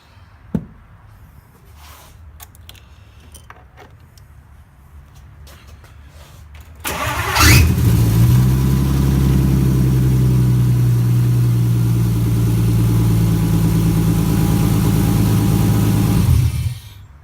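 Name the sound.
car starter motor starting engine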